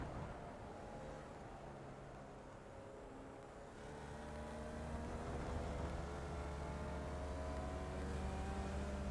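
A race car engine drops through the gears coming out of a bend, its note steady and distant at first, then swelling louder and fuller with a sustained droning tone and no voices.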